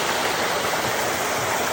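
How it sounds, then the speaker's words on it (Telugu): Water pours steadily down a small waterfall at Ubbalamadugu, a dense, unbroken rushing close by that fills the whole moment with no voices. "వాటర్ ఫాల్ లాగా ఉంది."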